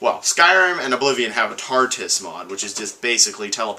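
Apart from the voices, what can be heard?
No everyday noises stand out.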